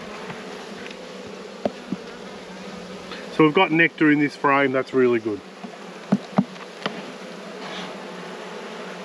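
Bees from a struggling rescue hive hum in a dense, continuous buzz around an opened frame, while someone speaks briefly midway over the drone.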